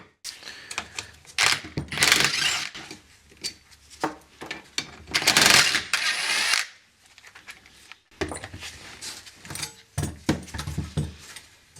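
Brake parts being taken apart on a Subaru Justy: intermittent metallic clanks, tool scrapes and rattles in bursts, with a couple of louder rasping passages and short pauses between, close and moderately loud with no talking.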